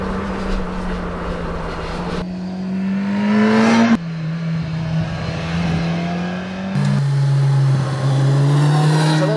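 A 2020 Kawasaki Ninja 1000SX motorcycle is ridden hard, its engine climbing in pitch through several gears with abrupt shift breaks and wind rush, loud and close, with no talk.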